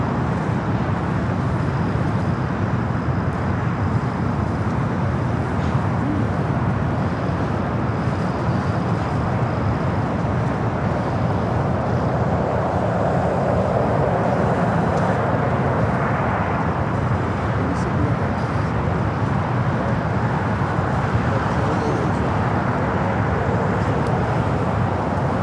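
A Delta Airbus A350-900 airliner arriving from Tokyo Haneda passes at LAX as a steady, loud, broadband jet roar that holds for the whole stretch, with faint traffic rumble mixed in and no voices.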